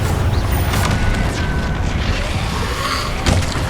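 A Confringo spell explodes in Hogwarts Legacy with deep, rumbling booms and crashing bursts, loud and continuous, with a couple of sharper impacts near the end.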